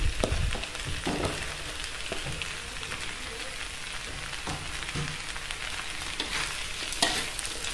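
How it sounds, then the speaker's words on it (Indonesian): Mie goreng noodles with spring onion crackle and sizzle loudly in a hot pan while a utensil scrapes and stirs in irregular knocks, steady frying throughout. "ini kita aduk sampai tercampur rata"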